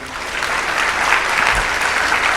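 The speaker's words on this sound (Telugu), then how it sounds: "బిగ్గరగా చప్పట్లు కొట్టండి" A church congregation clapping loudly, dense sustained applause throughout, close and full without pause.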